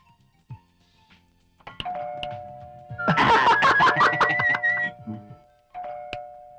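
A doorbell rings with a sustained two-tone chime in the middle, surrounded by sparse room sounds and a few short knocks or clicks, with faint voices near the start and end.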